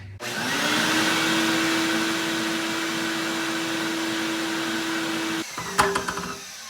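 Large shop vac powered by a Bluetti AC200L power station starts up with a steady whining roar, runs evenly for several seconds, then shuts off and winds down with a few clunks.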